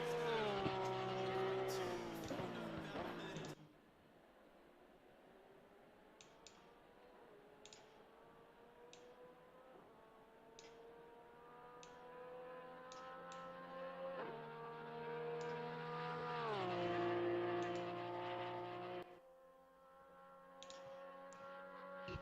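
Porsche race car in a PS4 racing game at Bathurst, its engine revving up through the gears with rising pitch, a few shifts, brief tyre squeal and clicking, loud and steady near the listener.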